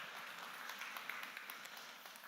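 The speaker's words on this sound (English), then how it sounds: "give them a round of applause" An audience at a faith panel event applauds as panelists are called on stage, a steady dense wash of clapping from a crowd heard at moderate distance, fairly faint.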